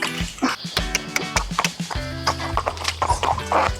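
A horse's hooves clop in uneven steps on hard ground as it walks away, fairly close, over a busy, cluttered background.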